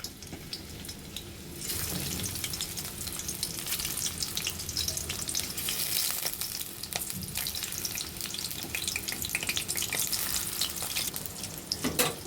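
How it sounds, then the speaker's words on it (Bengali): Raw jackfruit pieces fry in oil in a wok, giving a steady loud sizzle that starts abruptly after a quiet opening and carries on with crackling and stirring clatter, no talk. "তেলে ভেজে নিব আমরা কড়াইতে তেল দিয়ে দিয়েছি আড়াই চা চামচ পরিমাণের মতো এখন আমরা কাঁঠালের টুকরোগুলো এর মাঝে দিয়ে দিব"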